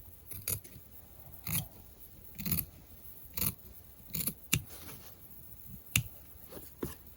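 Scissors snip through fabric while a face mask is being made, giving about nine crisp, separate cuts spaced roughly a second apart. The cuts are close and moderately loud, and no one speaks.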